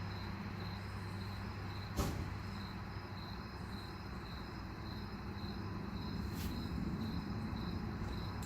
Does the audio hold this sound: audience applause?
no